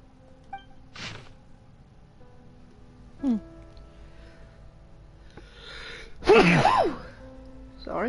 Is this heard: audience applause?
no